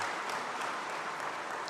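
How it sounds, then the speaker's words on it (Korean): Audience applause at a church choir festival's opening worship service, a steady dense wash of clapping filling the whole moment without a break. "박수로 다시 한번 맞이해 주시면"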